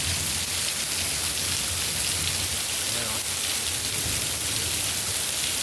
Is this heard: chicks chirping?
no